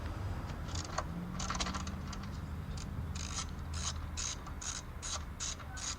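A ratchet turns out the top strut mount bolts on a 2005 Honda Accord during a front strut replacement. Quick, evenly spaced metallic clicks come in close, steady bursts, with no speech over them.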